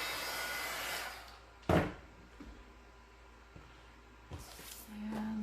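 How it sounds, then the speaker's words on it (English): A craft heat tool blows hot air to dry a craft piece, a steady whooshing hum for about a second, followed by a sharp knock and quiet handling noises, then the hum briefly returning. "I'm just going to quickly dry this. This is just a craft heater."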